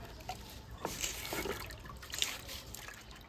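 Water trickles and splashes faintly as koi and magur fish are washed, a soft, uneven running stream with small splashes in the background.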